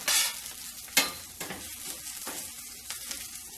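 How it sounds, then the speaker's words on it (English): Rice sizzles and crackles as it toasts and browns in a pan with chicken bouillon, with a few scraping stirs breaking through the steady frying hiss close by. "I'm going to let this toast up a bit, and I'm going to brown my rice"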